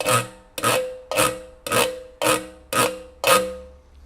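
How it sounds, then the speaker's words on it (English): Ridges on the side of a metal formula tin rubbed in seven even, rhythmic rasping strokes, each loud and close with a short ringing decay, and no voices. "A formula tin also has these ridges on the side, which can make a wonderful rhythmic sound if you go like this."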